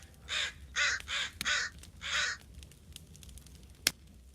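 A crow caws five times in quick succession in the video game The Forest, loud and close, followed by quieter background noise and a single sharp knock near the end.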